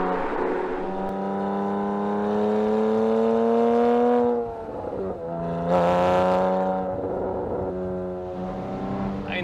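Porsche 987 Boxster S sports car driving, its engine note a strong harmonic drone that rises steadily, dips briefly as the driver lifts or shifts, then climbs again in a second rev, heard from inside without talk.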